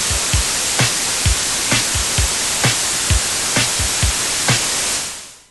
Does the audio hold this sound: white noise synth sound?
yes